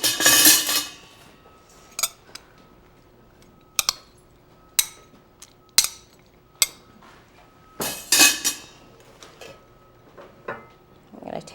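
A salmon dish with fennel is tossed in a bowl, with repeated close clinks and scrapes of utensils against the dish at irregular intervals, separated by quiet gaps.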